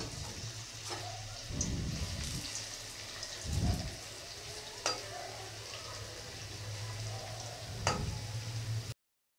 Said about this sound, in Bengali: তেল গরম হয়ে গেছে, এখন আলুগুলোকে ভেজে নেব।